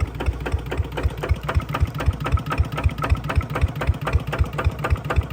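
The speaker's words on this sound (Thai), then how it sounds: "รถไถนาเดินตามครับ" A small RT110 DI direct-injection diesel engine on a walk-behind tractor idles nearby with a steady, rapid thumping knock, loud and even, with no talking.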